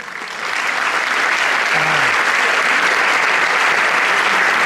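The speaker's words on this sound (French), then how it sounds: "Je vous demande de l'applaudir" An audience at the Miss Côte d'Or 2018 pageant breaks into steady, dense applause for Miss Saône-et-Loire, rising quickly from a quiet start and holding loud and even until the end.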